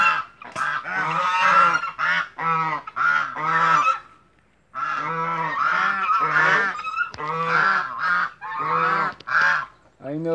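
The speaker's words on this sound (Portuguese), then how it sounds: "Aí meus gansos aí" Geese honk loudly and repeatedly in nasal bursts, several birds calling close by with a brief pause midway.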